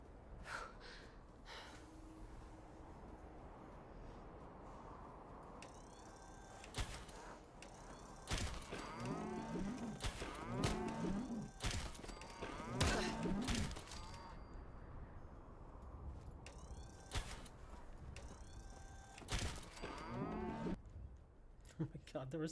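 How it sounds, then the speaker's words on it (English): Cattle in the Fallout 4 game moo repeatedly, several loud overlapping calls from a herd close by, punctuated by sharp bursts of gunfire-like noise. "there were so many cows"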